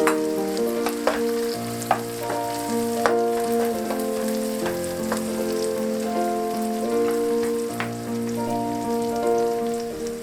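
Chopped tomato sizzling in a frying pan while making Hungarian mushroom paprikash: a steady, dense crackle of frying heard close, running continuously over a tonal background.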